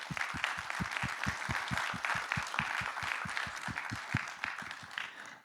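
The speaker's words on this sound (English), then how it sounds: "how about a big round of applause for Kevin and the API platform team?" A conference audience claps during a tech talk, building into steady rhythmic clapping in unison that holds a regular beat before fading at the close.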